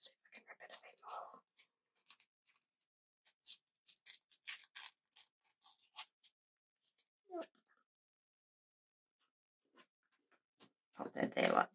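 Paper being torn in short, crisp rips while assembling a planner spread, quiet bursts scattered between pauses, with a louder tearing rustle at the end.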